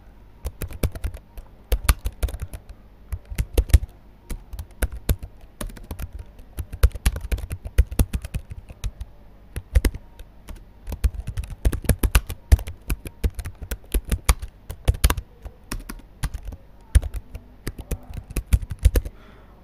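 Rapid, uneven keystrokes on a computer keyboard while text is typed into a PowerPoint slide, close and clear with short pauses between bursts and no talking.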